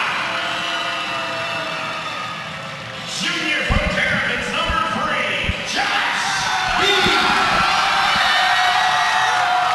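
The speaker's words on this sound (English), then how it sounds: "We got a loud crowd here today, so just bear with us, folks." A loud indoor crowd at a Class 3A boys high school basketball state championship roars and cheers in bursts, with sharp ball bounces and slams cutting through, while a voice talks underneath.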